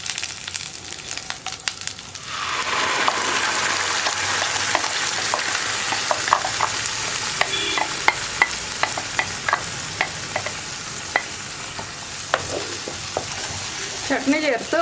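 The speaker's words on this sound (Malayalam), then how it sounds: "നമുക്കിതിലേക്ക് നമ്മൾ അരച്ച് വെച്ചിരിക്കുന്ന ചട്നി ചേർക്കാം" Ground coconut chutney hits a hot tempering in a pan with a sudden loud surge of sizzling, then keeps frying steadily while a spoon scrapes and stirs it at close range.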